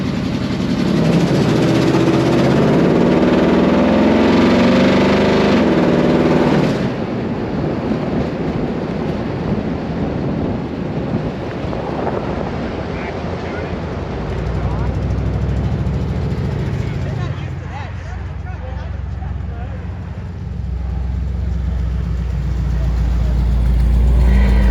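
Engine of an old blue pickup truck, a low steady rumble heard from inside the cab while driving, with people talking over it and the engine tone shifting as it runs.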